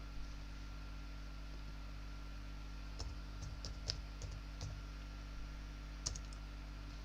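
Sparse computer keyboard typing and clicks on a Windows PC, a few quiet taps clustered mid-way and near the end over a steady low electrical hum, with no one talking.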